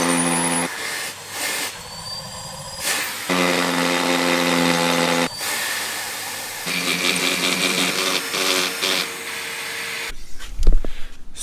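A Henry Hoover vacuum cleaner motor whines loudly, starting and stopping several times with short pauses between runs, followed by a few knocks at the end.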